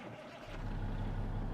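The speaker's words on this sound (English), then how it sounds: "I forgot how loud this engine is." A truck engine in American Truck Simulator rises into a steady, loud low drone after a short quieter moment, continuous and close.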